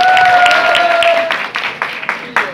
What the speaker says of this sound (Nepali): उहाँकोलाई पनि जोड़ा ताली